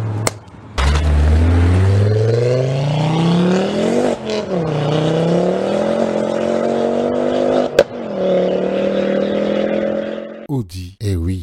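A five-cylinder turbocharged car engine, the kind Audi is known for, revs hard with rising and falling pitch sweeps, loud and close, ending in a few sharp blips.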